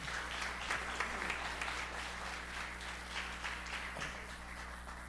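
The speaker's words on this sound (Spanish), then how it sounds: "Así un aplauso también a Miss Damaris también" An audience applauds steadily and fairly evenly for a woman at a book launch, with dense clapping sustained throughout and a faint low hum underneath.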